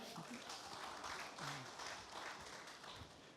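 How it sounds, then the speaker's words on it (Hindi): Audience applause during a Hindi talk show interview, dense continuous clapping that stays fairly even for a few seconds while people talk over it. "जोरदार तालियां"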